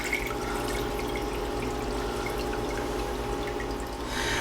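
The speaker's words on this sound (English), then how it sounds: "I'm gonna pour this into a fine mesh strainer first" Herbal oil for a skin salve poured through a fine mesh strainer, a steady close trickling and dripping stream that runs continuously, swelling slightly louder near the end.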